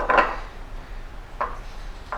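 A spoon scraping around a bowl of melting chocolate: a few soft, separate clinks and scrapes spaced over a couple of seconds, quiet and close.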